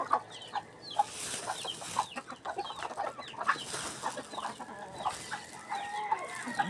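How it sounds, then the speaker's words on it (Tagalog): A flock of chickens clucks and squawks continuously nearby, overlapping calls in an irregular, busy chorus. "Nakakatawa magpakain ng manok pag marami sila, oh."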